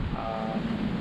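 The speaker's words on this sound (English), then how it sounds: "It's blowing much stronger than predicted, but then that's the Cape effect, which Brian Papp predicted" Strong wind blowing at sea off a headland during a sailing passage along Baja California, heard as a dense, steady rush that buffets the microphone with no voices.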